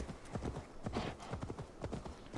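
A horse mount in the video game Assassin's Creed Valhalla trots with steady, close, rhythmic clip-clop hoofbeats throughout, moderately loud over a soft background.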